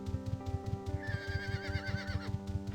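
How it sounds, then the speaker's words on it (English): A pack horse in the Ultima Online game whinnies with a wavering high neigh over a steady repeating musical backdrop of looping beats. "Oh, another pack horse."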